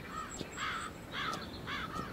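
A crow in the video game Tears of Themis caws three or four times in a steady rhythm, each call harsh and clear against a quiet background.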